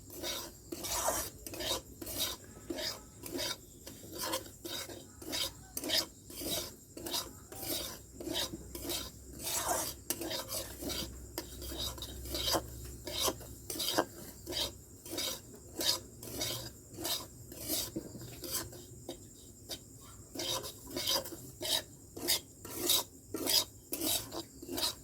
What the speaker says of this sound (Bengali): ঘিটা গরম হয়ে গেছে, এখন সুজিটা দিয়ে দেব। এখন লাল করে সুজিটা ভেজে নেব।